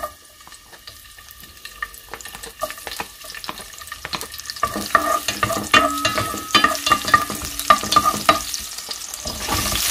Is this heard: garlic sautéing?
yes